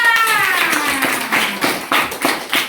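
A short burst of hand clapping from a small group, brisk and uneven, fading into scattered claps after a couple of seconds.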